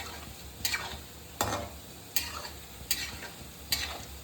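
A spoon or spatula stirs a grated carrot mixture in a pan for a Bengali sweet, giving five evenly spaced scraping strokes over a soft, steady sizzle, close and alone.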